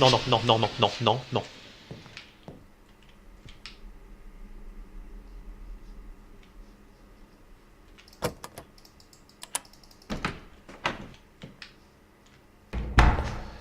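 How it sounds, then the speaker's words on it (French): A door in the horror computer game Welcome to the Game II bangs several times with sharp, hard thuds spread over the later part, the loudest near the end, after a loud opening burst and quieter rustling. "Cette porte, faut qu'elle arrête."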